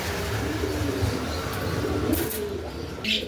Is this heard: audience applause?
no